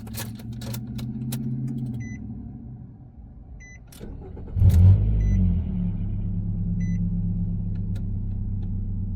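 A 2008–2014 Nissan Rogue started with a newly programmed key: a few warning chimes and clicks, a brief crank, then the engine catches with a loud surge and settles into a steady, close idle rumble.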